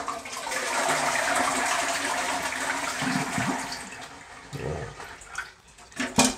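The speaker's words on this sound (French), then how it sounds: "Je vais finir de tirer la chasse." A toilet with a slow-refilling cistern and float valve flushes with a steady rushing of water that gradually fades into gurgling and refilling, with a few small clanks near the end.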